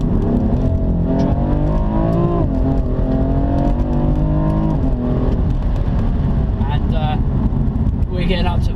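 A BMW M4 Competition accelerates hard, its engine note climbing through stepped gear changes in a loud, continuous roar with road and wind noise.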